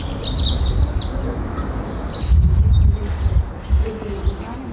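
Small birds chirp in a spring park fitted with nest boxes and feeders, with a run of quick, high tweets near the start and scattered calls over steady outdoor background noise and faint low rumbling.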